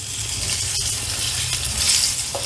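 Stuffed bitter gourd fries in oil in a pan just after being turned over, giving a steady, close sizzle with faint crackles and one short metallic clink partway through.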